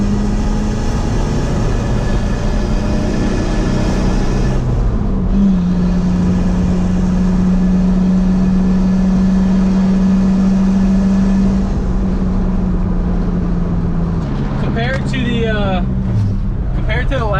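Steady low drone of a TDI pickup truck's turbo diesel engine while driving, loud and continuous from inside the cab, with the pitch shifting through gear changes.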